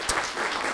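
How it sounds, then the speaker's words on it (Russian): Audience applause greeting a presenter at a master class, a brief steady patter of many hands clapping, close and fairly loud, with no speech. "Я с удовольствием под ваши аплодисменты представляю Фарита Ильдусовича Шагиахметова"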